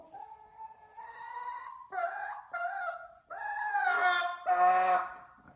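A chicken clucks and squawks in a series of drawn-out, agitated calls that grow louder toward the end, close by with no talking.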